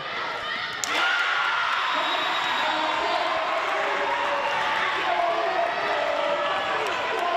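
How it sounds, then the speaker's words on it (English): A crowd at a girls' volleyball game between Detroit Renaissance and Cass Tech roars with sustained cheering and applause in a gym after a sharp thump of ball contact, with a commentator speaking over the noise. "Crowd getting into it, look at that, exciting."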